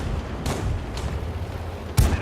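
Tank cannon fire in a World War II tank battle video game, including shots from an M15/42 tank: three heavy booming shots spaced about half a second to a second apart, the last one loudest.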